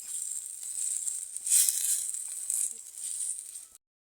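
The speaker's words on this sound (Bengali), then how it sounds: "এখন আমরা ভালোভাবে একটু নাড়িয়ে চাড়িয়ে নেব।" Singhi fish curry with garlic paste stirred in a pan in a small kitchen, a steady close sizzle with faint scraping, swelling briefly in the middle, no talk.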